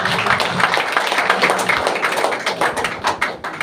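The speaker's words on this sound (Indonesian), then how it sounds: "tepuk tangan untuk Tuhan Yesus" A church congregation claps their hands together, a dense, steady patter of many hands close by that continues for a few seconds with no talking.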